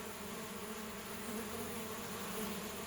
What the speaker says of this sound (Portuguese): As abelhas estão chegando carregadas de pólen, cara.